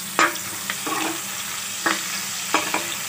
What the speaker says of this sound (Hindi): एक कटा हुआ प्याज डाल देंगे इसमें, और इसको कलर होने चेंज होने तक इसको फ्राई करेंगे प्याज को